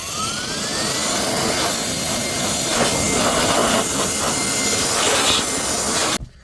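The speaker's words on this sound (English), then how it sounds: "we're gonna dust this off with the Hyper Tough blower" A Hyper Tough blower spins up with a rising whine and then roars steadily as it dusts off the engine of a 2016 Ford F150 truck, loud and close, before cutting off abruptly at the end.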